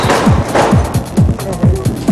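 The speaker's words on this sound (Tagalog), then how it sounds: "kung saan puro fireworks saan ka man lumingon" Firecrackers and fireworks crackle during Chinese New Year celebrations, a rapid string of sharp, loud bangs and pops in quick succession, close by, filling the whole stretch.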